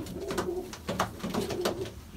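Mardin pigeons, Çakmaklı, Miski and Miro birds, coo in repeated low rolling phrases, close and soft with a steady rhythm and no talk over them.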